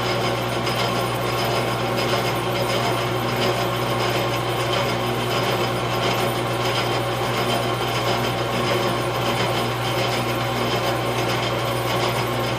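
A tractor valve guide for a Farmall 450 is chamfered with sandpaper, likely while spinning in a lathe, producing a loud, steady grinding rasp over a constant mechanical hum with no pauses.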